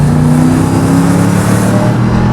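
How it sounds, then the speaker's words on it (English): A Mercedes-AMG G-Class engine revs through its side-exit pipes, a loud, sustained, thunderous roar heard close up without any voices. "You put your foot down and it has side pipes, so it makes an amazing, thunderous AMG sound."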